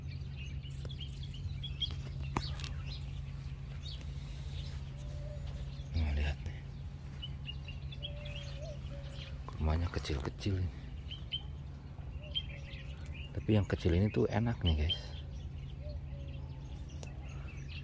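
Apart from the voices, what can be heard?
many birds chirping among date palms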